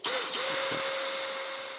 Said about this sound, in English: I'm just going to use a 4mm drill bit for this.